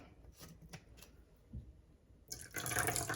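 Rice wine vinegar is poured into a bowl. A few faint drips come first, then a louder, steady splashing pour rises near the end.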